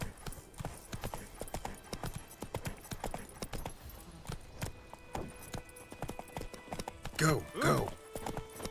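Horse hooves clip-clopping at a gallop in The Witcher 3, a steady rhythmic drumming close by, with a rider's short spoken commands over it and a louder burst of effort sounds near the end.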